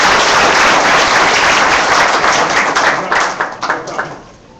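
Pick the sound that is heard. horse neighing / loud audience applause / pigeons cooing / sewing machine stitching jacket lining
loud audience applause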